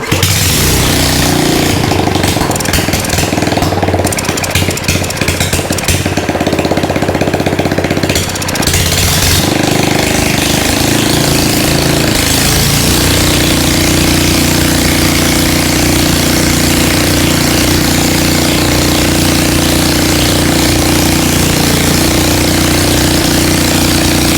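A petrol generator engine restarted with the choke on runs loudly and close, sputtering and uneven at first, then settling into a steady, continuous drone.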